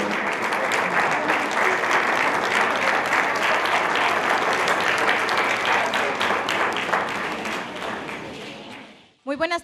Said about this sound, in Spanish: Un fuerte aplauso para despedir y en agradecimiento al ritual que nos presentó la danza Tezcatlipoca de aquí de Tamazula.